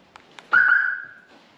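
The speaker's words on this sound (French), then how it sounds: "Donc ça c'est une sirène qu'on a rajoutée" A siren fitted to an Audi gives a short chirp as the key locks the car, preceded by two faint clicks, then a single rising tone that fades out.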